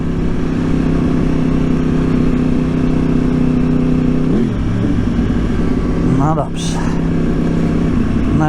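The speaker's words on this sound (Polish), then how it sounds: "bardzo przyjemna charakterystyka pracy silnika, jeśli chodzi o wydobywający się dźwięk" A Yamaha R1 RN22 sport motorcycle runs steadily under the rider with a loud, continuous engine drone, easing off around the middle and then picking up again, heard up close with wind noise.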